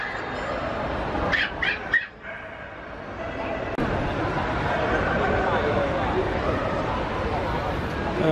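Shetland Sheepdogs at a dog show, heard as a couple of short yips and barks early on within a loud, continuous crowd and hall din.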